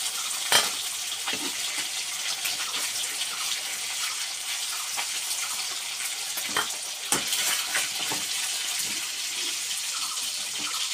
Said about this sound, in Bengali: এই যে মাছগুলো আমার ভাজা হয়ে গেছে, অল্প অল্প করে ভাজা হয়ে গেছে